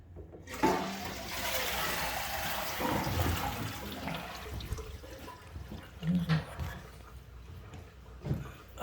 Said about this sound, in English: We'll give it another flush.